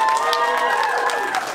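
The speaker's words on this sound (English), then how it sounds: "a big round of applause for all our cosplayers" Convention crowd at a gaming and comics event applauds cosplayers in a short, dense burst of clapping with overlapping voices and cheering.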